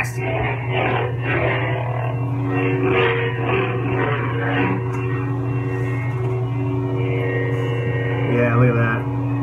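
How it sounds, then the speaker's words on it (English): A steady, loud, low electric hum from a lightsaber running the classic Vader sound font on a Golden Harvest V3 board continues throughout, with faint swing swells and some voices layered over it. "Just that classic Vader hum."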